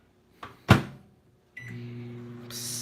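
A microwave oven starts up: a couple of thumps like its door closing, then a steady close electrical hum with a low drone and a brighter whirr joining near the end.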